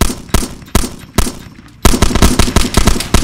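Gunfire from the video game DayZ comes in several sharp, loud single shots spaced apart, then a rapid string of bursts at the end, close and harsh with little else around them.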